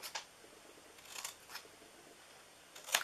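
Paper cut with scissors while assembling a Christmas window box: a few short crisp snips spaced apart, quiet and close, with a sharper cluster of cuts near the end and no talking.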